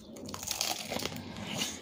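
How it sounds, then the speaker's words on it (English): Close, crackling crunches of someone biting and chewing crispy fried chicken, a steady run of dry crinkly bursts up close with no talking. "Hear that crunch?"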